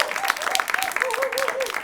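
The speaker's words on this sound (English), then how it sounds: "the researchers and the writers get the biggest cheer on this show of anywhere they will ever be" A studio audience claps and cheers loudly for a guest agricultural economist, with dense continuous applause over which a voice speaks.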